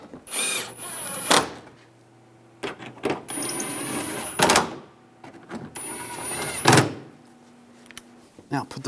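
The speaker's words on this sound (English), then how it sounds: "Now tighten all the screws down." A power tool tightens screws during a 2011-2018 Ram 1500 3.6L V6 upstream O2 sensor replacement, running in several loud high-pitched bursts of a few seconds each, separated by pauses with clatter and a voice.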